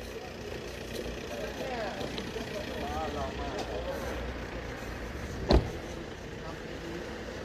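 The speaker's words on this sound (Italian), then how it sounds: "questi vanno con le loro macchine" Cars driving away under police escort at a hotel in Reggio Calabria, a steady low engine rumble of road traffic running throughout, with a brief louder burst near the middle.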